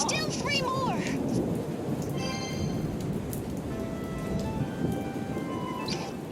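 Thunderstorm with steady rain in the Bravely Second game, a constant dense hiss of rainfall with low rumbling thunder, while faint melodic game tones and chimes sound over it.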